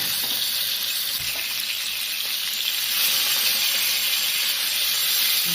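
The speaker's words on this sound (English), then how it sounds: "They are all seared up in the Instant Pot" Beef short ribs searing in a hot Instant Pot: a steady, loud, close sizzle of frying meat with a broad hissing texture, swelling slightly louder partway through, no talking.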